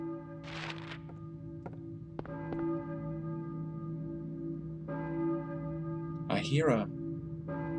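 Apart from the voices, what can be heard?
church bell ringing in video game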